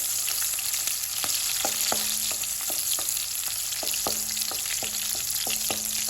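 Tomato chutney ingredients sauté in a pan with a loud, continuous sizzle up close, while a spatula taps and scrapes against the pan in an uneven rhythm.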